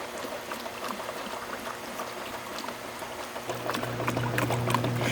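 Kenmore washing machine pumping out water, a steady low drone with gurgling, sloshing water that grows louder and fuller partway through, heard alone without speech.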